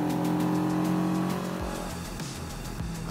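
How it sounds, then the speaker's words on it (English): A CFMoto 700CL-X motorcycle engine dropping through a downshift while riding, its steady drone falling in pitch with a brief rev blip, heard close and loud. "We're going to downshift a little bit here."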